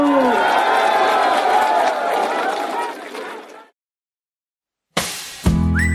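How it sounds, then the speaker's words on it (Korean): A crowd at a political event claps and cheers for several seconds, then the noise fades into silence before a short, sharp burst of another sound. "안철수 대표에게 여러분 뜨거운 박수를 보내주십시오"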